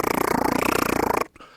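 A voice imitates a cat purring loud, a fast rhythmic rumbling trill held steadily for over a second before cutting off into a breath.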